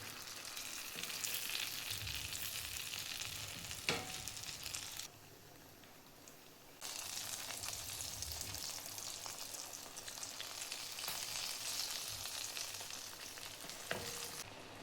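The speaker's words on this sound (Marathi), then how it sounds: "दोन्ही साईडने पण व्यवस्थित तळून घ्यायच्यात." Spice-stuffed green chilies shallow-fry in an uncovered pan with a dense, even sizzle that drops quieter for a couple of seconds midway before resuming, plus a few faint pops and clicks.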